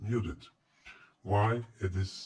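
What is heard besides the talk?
None of the usual background noises is heard.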